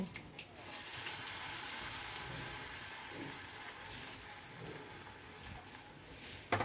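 Semolina batter sizzles in a pan after it is poured in, a soft, steady hiss that holds for several seconds with a few faint clinks and no talking.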